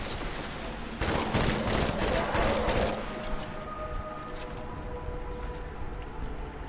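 Pulse rifle firing in Destiny 2, rapid rhythmic bursts of shots from about one to three seconds, then scattered fainter shots and game ambience.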